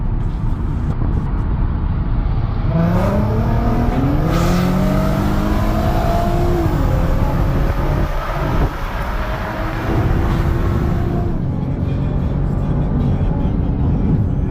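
An Audi TT and a VW GTI race side by side, engines winding up through long rising sweeps and shifting again and again. The roar is loud, steady and close, like a recording from inside one of the cars.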